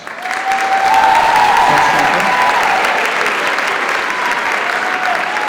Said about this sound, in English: Students, let's give Miss Brendel a round of applause.